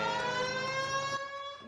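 A police car siren from the L.A. Noire video game wails with steady tones and rich harmonics, close and loud, fading slightly toward the end with no talking.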